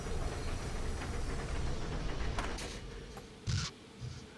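A train moving in Tony Hawk's Pro Skater 4, heard as a steady low rumble and hiss of rolling cars with a few metallic clicks and clanks near the end, fairly faint and alone.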